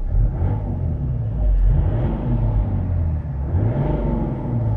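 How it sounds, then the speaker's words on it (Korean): A Mercedes-Benz CLS 400d AMG Line diesel engine revved while parked, a loud, close, low rumble that rises and falls through two smooth throttle swells, with no talk. "한번 악셀을 밟아볼까요?"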